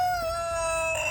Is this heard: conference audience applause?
no